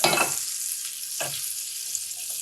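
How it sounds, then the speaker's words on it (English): Butter for a beurre noisette sizzles steadily in a pan while being stirred, a bright continuous hiss broken by a couple of soft scraping strokes, close and alone with no talking. "So I'm just stirring the butter around so that it melts evenly and starts to brown evenly"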